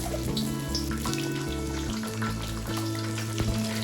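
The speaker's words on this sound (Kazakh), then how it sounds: "Енді оған бір-бірлеп белешиімізді салып шығамыз." Steady frying hiss from belyashi, meat-filled pastries, cooking in oil, with a low droning hum underneath throughout and no talking.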